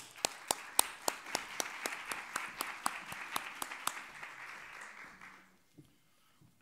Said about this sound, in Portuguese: chamo a todos e peço uma salva de palmas para eles.